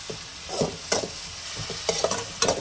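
Ginger garlic paste fries in hot oil for Tamil-style egg rice, a soft sizzle under several distinct scraping strokes of a spoon against the pan, spaced about half a second apart, with no voices.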